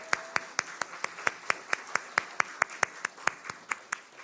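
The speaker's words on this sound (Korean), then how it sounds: "우리 환영의 박수 하겠습니다" A church congregation gives welcoming applause for visiting middle school students, a crisp, evenly paced run of unison claps, roughly four or five per second, held steady throughout.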